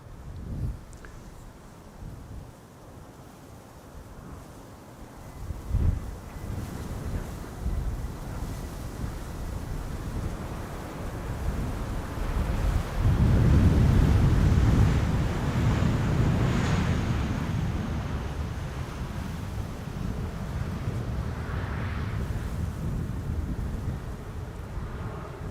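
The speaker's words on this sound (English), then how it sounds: "I think this is where the wind is coming from." Gusty wind buffets the microphone beside runway 18R Polderbaan at Amsterdam Schiphol, a broad roaring rush that swells louder midway and stays strong to the end.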